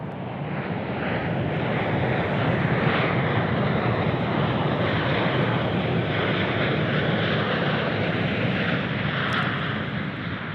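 Jet aircraft engines roar steadily at Sydney Airport, likely from a Jetstar Airbus A320, a continuous broadband rumble with some wind buffeting throughout.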